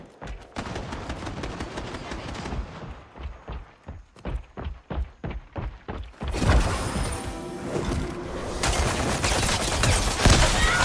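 Gunfire in a video game: rapid bursts of shots, then a run of evenly spaced single shots, giving way to dense loud firing and explosion noise.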